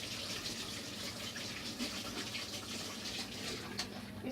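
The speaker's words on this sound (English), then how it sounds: "I'm just going to wash my hands really quickly." Running tap water gushes steadily into a sink while someone washes their hands, a continuous, fairly faint hiss of flowing water with no speech.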